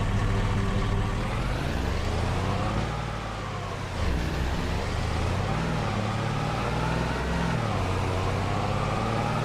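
A truck engine in the Farming Simulator 25 video game hums as a steady, loud drone whose pitch rises and falls gently as it drives, with no talk over it.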